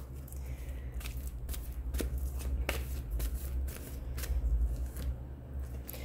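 Playing cards shuffled for a tarot-style reading, a run of soft, riffling flutters and crisp card snaps close by, steady and unhurried, with no voices.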